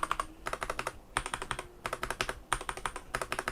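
Fast typing on light keyboard keycaps, bursts of rapid clicky keystrokes with brief pauses between runs, close and clear with no talking.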